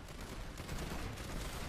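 Suppressive automatic gunfire poured onto barricades in Planetside 2, a faint, continuous rattling stream of shots with no voices.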